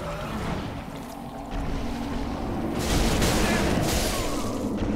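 A deep boom from an explosion in the video game Dark Souls, played on a Steam Deck, rolls out into a broad rumbling wash that swells and lingers for several seconds with no talk over it.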